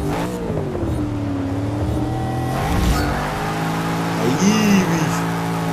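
Engine of a 2015 Chevrolet Camaro Z/28 in Forza Motorsport 6 revving hard off the start line, a loud steady roar climbing through gear changes, with someone talking over it.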